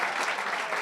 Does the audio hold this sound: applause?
yes